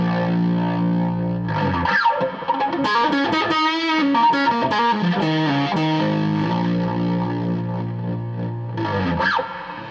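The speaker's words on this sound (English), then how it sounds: "Try a rat type distortion." A Squier Jazzmaster 40th Anniversary Vintage Edition electric guitar plays through a RAT-type distortion pedal, with a compressor on, giving sustained gritty chords and a short run of picked notes, loud and alone with no talk.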